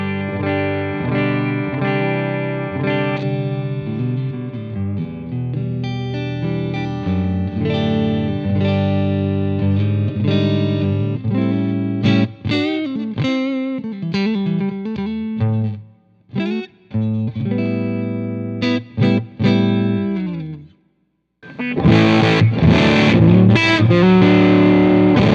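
An electric guitar through a cranked Dumble-style amp plays heavily distorted chords and single-note runs with sustain, pausing briefly before a final burst of crunchy strumming.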